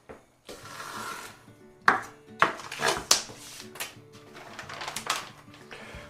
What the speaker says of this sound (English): the next thing we're gonna do is we're gonna cut the bacon